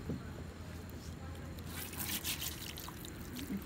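Water trickles and splashes while a dirty horse feed bucket is rinsed out at a stable, a steady low wash of flowing water with brighter splashy bursts in the second half.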